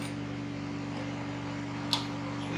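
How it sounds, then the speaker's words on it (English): A sewing machine stitches down the godet of a mermaid skirt, a steady close mechanical hum with a fast even stitching rhythm and a brief small click near the end. "I'll continue sewing my godet downwards like this"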